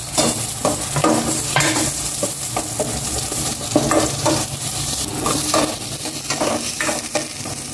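Garlic and onion sautéing in a pan, a steady frying sizzle with repeated scrapes and clinks of a spoon stirring against the metal, close and continuous with no talking.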